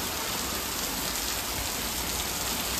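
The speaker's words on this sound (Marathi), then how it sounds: "पाऊस पडतोय गावात." Steady, dense rainfall in a village on Diwali, a constant loud hiss of drops on surfaces filling the whole stretch with no voices.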